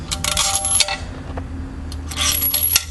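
Metal flat washers dropped onto threaded rods during a 1971 Camaro power steering pump rebuild, giving a few sharp close metallic clinks spread across the moment.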